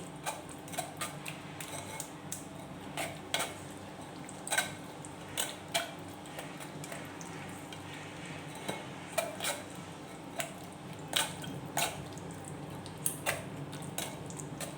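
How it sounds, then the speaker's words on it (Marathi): A spoon stirring and pressing soaked tamarind pulp through a strainer, producing repeated light clinks and scrapes at an uneven rhythm over a low steady background. "चमचे साह्याने काय करायचं आपल्याला अशा प्रकारे हलवून घ्यायचा आहे"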